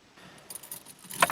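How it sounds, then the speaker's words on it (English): Car keys jangle close by inside a 1985 Ford Capri, a soft rustle building into a brighter metallic rattle near the end. "Try the keys."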